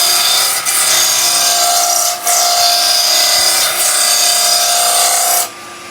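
A wood lathe runs with a steady, loud whirring rasp as a tool scrapes the spinning wood, with brief dips in the sound before it cuts out near the end.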